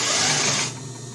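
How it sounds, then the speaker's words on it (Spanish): A sewing machine stitches elastic onto a fabric face mask in a fast whirring run of about half a second that cuts off into quieter mechanical hum. "le vamos a coser dos o tres veces más para que agarre mayor fuerza"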